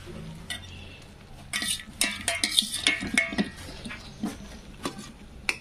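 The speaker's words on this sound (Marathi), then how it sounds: "तर ग्रेव्हीमध्ये आपल्याला टाकून घ्यायचं आहे पनीर" Cubes of paneer go into a pan of gravy for paneer tikka and get stirred, with a string of spoon scrapes and clinks against the pan in uneven bursts, fairly close and moderately loud.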